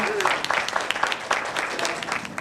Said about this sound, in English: yes, you can clap for Ernie Camerano